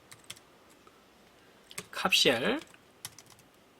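Keys clatter on a computer keyboard as data is entered into an Excel spreadsheet, with scattered sharp clicks and a short burst of speech in the middle.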